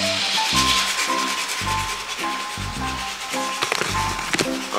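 Steady rhythmic rubbing of sandpaper against the metal fenders of a 1955 Buick Century, repeating back-and-forth strokes close by, with a faint background hum throughout.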